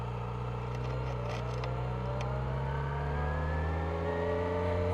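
Motorcycle pulling away during a riding lesson, its engine droning steadily and climbing slowly in pitch as it accelerates from a start, heard close and continuous without pause.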